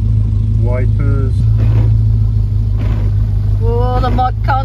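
A 1955 Renault 4CV's small engine, a steady low idle rumble running throughout, loud and close, with a person speaking over it.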